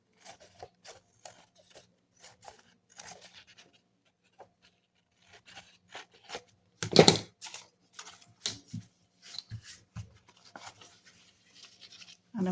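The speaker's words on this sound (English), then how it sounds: "I'm just going to trim the corner here." Scissors trimming the corner of a paper book page for a junk journal layout, heard as a few crisp snips and rasps at close range, with one louder cut near the middle among quieter scattered paper sounds.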